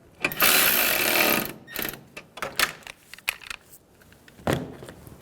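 A bolt on the idler pulley of a 2000-2007 Ford Focus 2.0L is run down with a ratcheting tool, giving a burst of rapid clicking followed by scattered short clicks and clanks, close and without talk.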